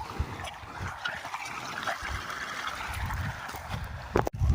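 Irrigation water trickles and gurgles steadily in a low, continuous flow through a maize field outdoors, with a sharp knock near the end.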